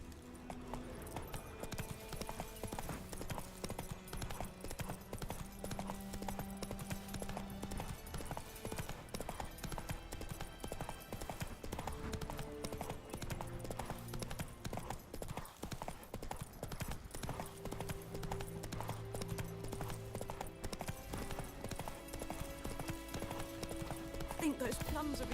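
Horse hoofbeats in The Witcher 3 at a steady galloping rhythm, clip-clopping continuously throughout under game music and ambient sound, with occasional character speech.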